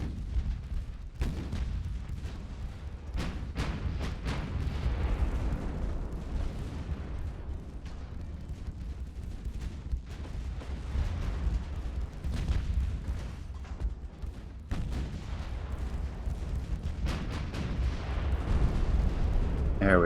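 Naval gunfire in the warship battle game Ultimate Admiral: Dreadnoughts rumbles throughout as a deep continuous roar of artillery, with sharp cannon booms repeating irregularly over the battle noise.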